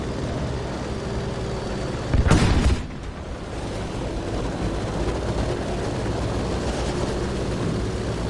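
Airplanes circling and taking off over a Battlefield V conquest match: a dense, continuous engine roar fills the scene, with a brief heavier rumbling burst partway through and no talk.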